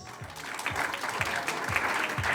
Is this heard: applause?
yes